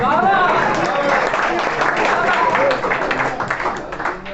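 A college farewell party audience claps for the langar meal, steady loud applause that tapers slightly near the end, with some voices mixed in.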